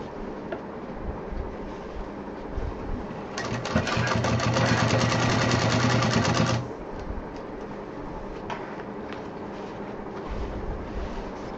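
A sewing machine runs in one steady, fairly loud burst of rapid stitching through fabric for a homemade large backpack, lasting about three seconds. Quieter room noise comes before and after it.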